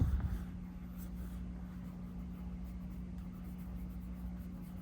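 A pencil drawing fur on paper with a changed grip: soft, continuous scratchy strokes, close and fairly quiet, over a constant low electrical hum.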